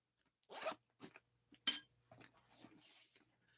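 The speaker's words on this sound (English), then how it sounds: "you have another zipper with another very big pocket" A zipper on the back pocket of a bag is pulled open in a few short, scratchy bursts, with one louder rasp in the middle, close and fairly quiet.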